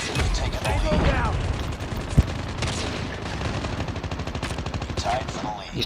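Rapid gunfire from the video game COD Mobile, including sniper rifle shots, crackles in dense bursts across the whole stretch, with one sharp loud shot standing out midway, under intermittent voices.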